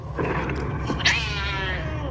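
A single drawn-out cat meow rising and then trailing off, moderately loud over a steady low background hum.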